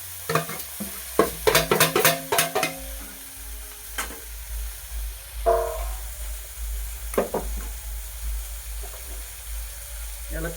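A quick burst of close, clattering spoon strokes stirs an eggplant curry with ground peanuts in a pan over a low sizzle, followed by quieter, sparser scrapes.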